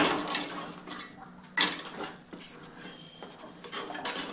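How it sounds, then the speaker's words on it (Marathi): Boiling water mixed into flour for ukkad pendhi, a spoon scraping and clinking against the pot in uneven bursts, close and moderately loud with no talk. "थोडं थोडं पाणी टाकत जायचं आणि मिक्स करत जायचं"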